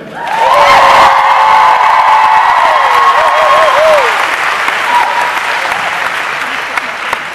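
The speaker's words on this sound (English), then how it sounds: "Can we just get a nice round of applause for the band?" Crowd at a New Jersey fan convention panel applauding the band, loud sustained clapping with cheers and whoops rising over it, slowly tapering off.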